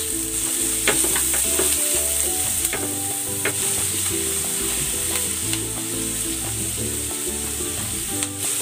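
Garlic and onion sautéing in margarine in a pan, a loud continuous sizzle with frequent clicking scrapes of a spatula stirring throughout.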